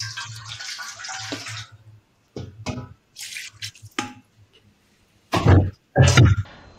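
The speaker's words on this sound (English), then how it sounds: "Add a little bit of water." Water is poured into a pressure cooker in bursts, with splashing and trickling pours separated by short pauses, recorded close up and with no talking.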